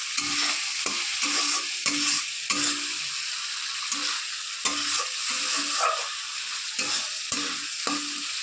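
Spice paste frying and being stirred in oil for an Indian egg curry: a steady close sizzle with repeated scraping strokes of a spoon against the pan, no talking.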